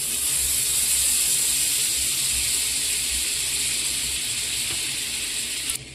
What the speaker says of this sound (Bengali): কড়াই গরম হয়ে গেছে, এখানে আমি অল্প বাটার দিয়ে দিচ্ছি।